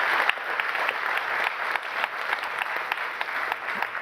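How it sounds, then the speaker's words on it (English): An audience at the 2021 venture award ceremony claps for the placed companies, a dense, steady round of applause that holds at an even level throughout. "Big applause for the two companies."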